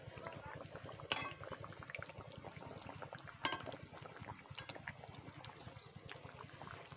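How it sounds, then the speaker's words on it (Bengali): Fish curry with fried katla fish simmers in a pot in a Sundarbans kitchen, a steady close bubbling and gurgling with a couple of brief sharper splashes, no talk. "এই প্রত্যেকটা মাছ ফুটন্ত ঝোলে ভাজা মাছ"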